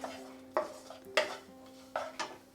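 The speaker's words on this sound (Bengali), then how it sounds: "এটাকেও একটু মিশিয়ে নেব।" A spoon stirs potato stuffing with chopped cashews and chopped raisins in a pan, giving a few sharp scrapes and clinks at irregular intervals, fairly close and quiet.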